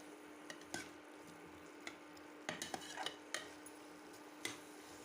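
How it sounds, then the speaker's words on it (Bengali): Fried potatoes being stirred with a spice mix in a pot for aloo biryani, soft scraping with scattered light clinks of a utensil against the metal, quiet and close. "এইবার আলুর সাথে মশলাটাকে ভালোভাবে মিশিয়ে নেব।"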